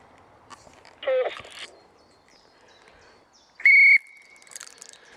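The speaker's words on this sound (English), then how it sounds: "Okay, I'm going to blow my whistle now." Two sharp whistle blasts ring out outdoors in the Quantock Hills, the second louder and held longer, with faint birdsong in the background.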